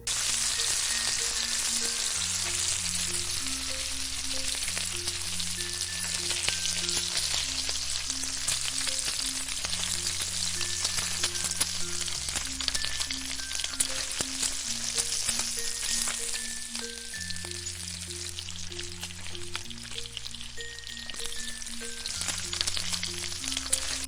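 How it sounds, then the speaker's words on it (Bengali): Chopped carrot and ginger paste frying with garlic in a pan for fried rice, a continuous loud sizzle and crackle throughout, with soft background music playing underneath. "এবার এর মধ্যে আধা কাপ গাজর কুচি ও 1 চা চামচ আদা বাটা দিয়ে আবারও হালকা করে ভেজে নিচ্ছি"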